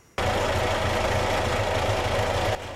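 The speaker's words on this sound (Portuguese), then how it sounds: "No galpão, Emerson manobra o trator" Tractor engine running steadily in a farm shed as it is maneuvered, a loud close low rumble with a rhythmic knocking idle that starts abruptly and continues without talk.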